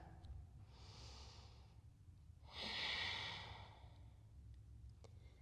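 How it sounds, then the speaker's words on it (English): Slow breathing during a yoga session held in a forward fold: a soft breath, a pause, then a longer, louder sighing exhale, close by and alone over a quiet room hum. "and we breathe here."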